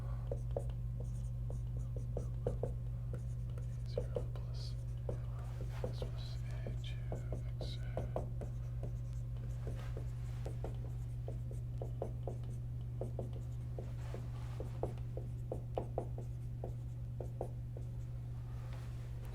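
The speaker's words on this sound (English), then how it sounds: "let me write this now" Pen or pencil writing by hand on paper while a math problem is worked out, a run of soft short scratching strokes in quick bursts over a steady low electrical hum, close and quiet with no talking.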